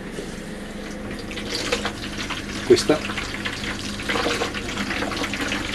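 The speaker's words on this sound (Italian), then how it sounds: "questa è acqua calda, già pronta per essere usata" Hot water runs from a camper tap in a steady hiss and splash, with a person speaking briefly over it.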